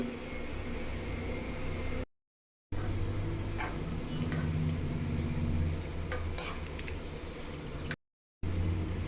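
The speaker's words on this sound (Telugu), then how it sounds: "చిక్కుడుకాయలు ఫిఫ్టీ పర్సెంట్ ఫ్రై అయిపోయినాయండి ఇప్పుడు ఉల్లిపాయలు కరివేపాకు వేస్తున్నాను" Broad beans sizzle in a frying pan for a garlic chilli fry as onions and curry leaves are added. The sizzle is loud and steady, with stirring scrapes, and breaks off into two brief silences.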